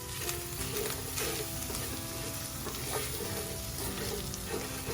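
Flour is stirred into sizzling sausage grease in a pan, a steady quiet frying hiss with soft scraping strokes and no talk.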